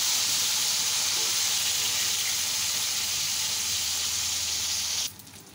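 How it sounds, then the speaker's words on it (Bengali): Rui fish frying in a pan gives off a loud, steady hissing sizzle as the pieces are flipped, then the sound drops away abruptly just before the end; no one speaks. "এই যে মাছগুলো উল্টাই দিচ্ছিলাম"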